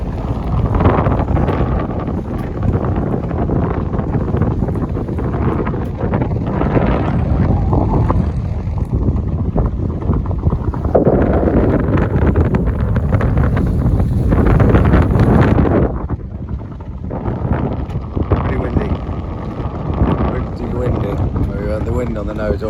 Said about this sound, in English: sails are up, and we are speeding along at nearly 6 knots